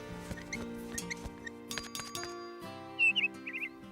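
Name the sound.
blue bird Pilou chirping, cartoon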